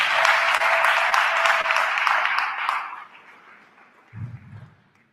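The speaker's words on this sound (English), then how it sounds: "Give Luki a round of applause." A workshop audience claps for about three seconds, a fairly close round of applause that dies away, followed by a short low thump.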